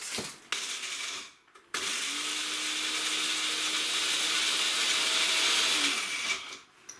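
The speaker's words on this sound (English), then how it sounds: "Then I'm going to pop the lid on and I'm going to blitz them for a few seconds" Countertop blender blitzing chocolate digestive biscuits into crumbs, a loud steady motor whir with grinding for a few seconds between short pauses, stopping and starting again.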